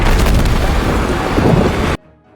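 Massive explosion blasting apart a mountain: a loud, dense roar of rumbling blast noise sustained for about two seconds before cutting off abruptly to near silence.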